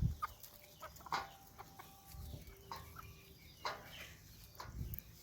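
A broody hen sits on her eggs, giving soft, scattered clucks and low throaty murmurs in short bursts at close range, with faint background rustle and no speech.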